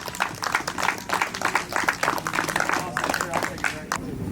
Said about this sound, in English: Good job to Hayden Smith. Big round of applause.